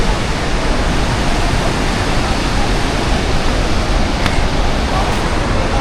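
Water plunging at Mallalli waterfall in Kodagu makes a loud, steady, unbroken roar of broadband rushing noise that fills the whole stretch, with drizzle in the air.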